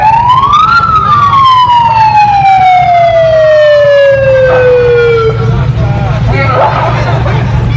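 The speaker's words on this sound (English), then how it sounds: "It's like a tow truck that is blaring a siren." A loud siren from a tow truck rises sharply, then slowly winds down in pitch while a street march crowd murmurs underneath.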